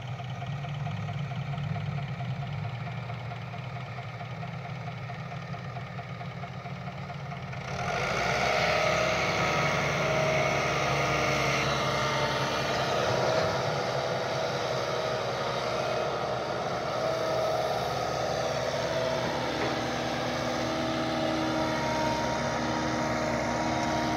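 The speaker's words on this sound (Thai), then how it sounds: "วันนี้พามาดูโกเบโก้ตักดินใส่รถดำนะครับ" A Kobelco SK120 Mark 3 excavator loading soil into a dump truck: a steady diesel engine drone that swells louder as the machine works under load, with broadband rumble and scraping texture throughout.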